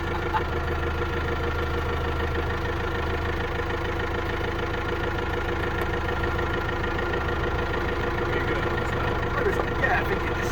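The engine of a Jaguar XKR X100 racing car runs continuously at a loud, steady, rumbling idle, its drone unchanging throughout with a faint knocking texture.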